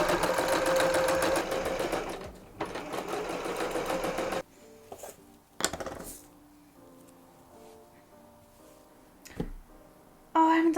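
A sewing machine stitches with black thread in steady rapid runs for the first few seconds, then falls quiet apart from a few short bursts and clicks.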